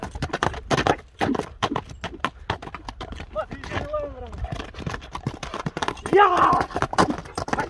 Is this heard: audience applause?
no